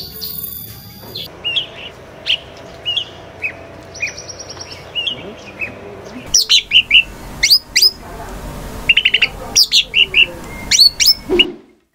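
A blue-winged leafbird sings in short, sharp, whistled chirps and trills. They come in scattered bursts that grow quicker and louder in the second half, against a quiet background.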